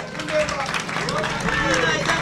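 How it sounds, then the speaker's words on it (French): An audience at a press conference of the Léopards de la Sape, returned from Paris, applauds designer Kaditoza with dense, continuous clapping, while voices and crowd babble carry on throughout. "Applaudissez très fort pour Kaditoza"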